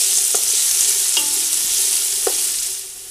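Vegetables sauté in a pot for an immune booster soup with miso, giving a loud, steady sizzle close up and a few brief knocks of a utensil, and no one speaking.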